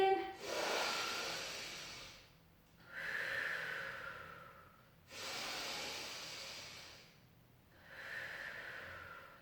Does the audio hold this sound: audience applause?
no